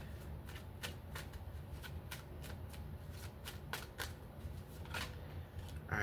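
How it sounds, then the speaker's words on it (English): Tarot cards being shuffled by hand, a close, rapid series of crisp riffling snaps and soft slides repeating in an uneven rhythm for several seconds, with no talking. "Let me shuffle the cards right quick."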